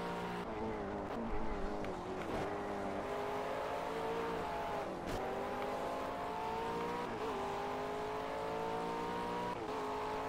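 McLaren race car engine in the Project CARS racing game, a continuous high revving whine that climbs and drops with repeated gear shifts, steady and fairly quiet with no talk.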